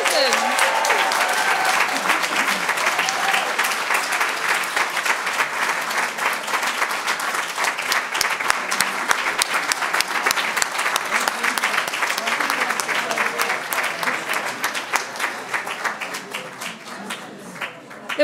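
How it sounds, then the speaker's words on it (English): Sustained applause from the audience at a U.S. naturalization ceremony in a public library in Arlington, Virginia, dense steady clapping that carries on for the full stretch and thins slightly near the end. "let's have a round of applause for America's newest citizen"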